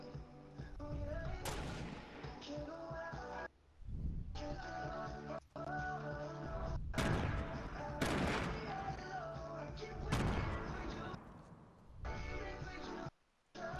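Fortnite Battle Royale gunfire: repeated booming shots and bursts, some close and loud and some farther off, punctuated by brief gaps over a steady game background.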